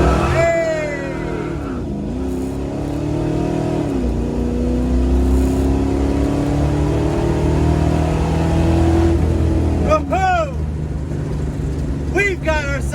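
A Ford Mustang Foxbody with nitrous and a new transmission launches hard, its engine revving and climbing steadily in pitch across successive gears, loud and close, with brief shifts and renewed pulls near the end.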